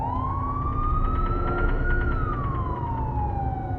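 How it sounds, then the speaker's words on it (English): A siren wails in the distance as a horror sound effect, its tone rising and then falling in a long sweep over a low rumble, loud and continuous with no voices. "A siren in the distance,"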